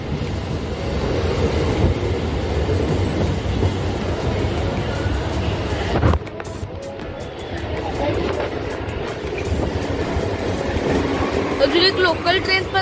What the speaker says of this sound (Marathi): अजून एक लोकल ट्रेन पण आली.